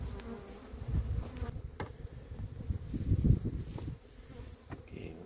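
Honeybees from a wintered mini-nuc hive buzz steadily and close by, a dense swarming hum with individual bees zipping past, no talking.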